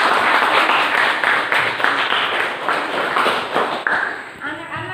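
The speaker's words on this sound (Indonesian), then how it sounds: "Kita berikan tepuk tangan." A class of students in a school lesson clapping hands together, brisk close clapping that runs a few seconds and thins out near the end as voices begin.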